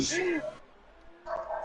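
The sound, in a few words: dog barking excitedly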